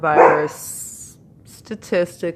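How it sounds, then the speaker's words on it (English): A dog barks a few short times close by, interrupting a person speaking indoors. "Excuse the dog."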